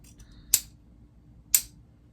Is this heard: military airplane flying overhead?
no